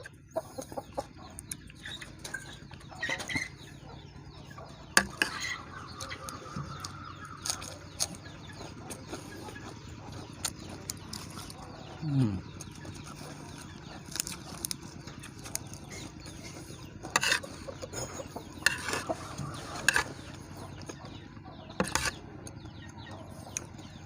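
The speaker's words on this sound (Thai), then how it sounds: "จะมีเสียงนก เสียงไก่ เสียงกา" Chickens cluck and a rooster calls around a rural Thai home, with scattered other bird calls and wing flaps over a steady background, short bursts rising at intervals across the scene.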